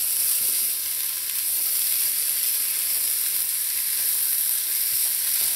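Chayote squash, also called christophene, and sweet peppers stir-fried in a hot pan for chow mein, giving a constant loud sizzle and hiss with no talking.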